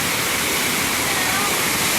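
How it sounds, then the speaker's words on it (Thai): Water pours at Nam Tok Nang Rong waterfall in Nakhon Nayok, Thailand, a loud, steady rushing roar filling the air without a break. "ที่น้ำตกนางรองนครนายกนะครับโอ้โหน้ำไหล"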